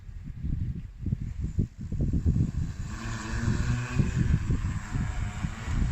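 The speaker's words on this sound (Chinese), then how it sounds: "飞机即将起飞，请保持安全距离" An agricultural drone spins up its propellers for takeoff, a whirring rotor buzz with pulsing low thumps that grows steadier and rises in pitch partway through, heard at close range.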